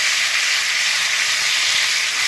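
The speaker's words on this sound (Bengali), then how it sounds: "আমি যে মশলাটা বানিয়ে রেখেছিলাম সেই মশলাটা এবারে ঢেলে দিলাম।" A masala of cashews, raisins, poppy seeds and green chili sizzles in hot oil, a steady, dense hiss that stays close and constant throughout.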